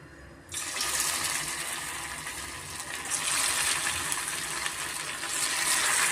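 Cut pieces of leftover idli fry in hot oil for idli manchurian, producing a steady loud hissing sizzle that starts abruptly and continues without letup.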